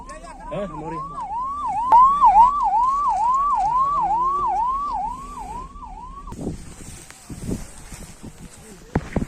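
Ambulance siren wailing in a steady rising-and-falling rhythm for about six seconds, loud and fairly close, then cutting off and giving way to scattered knocks and background noise.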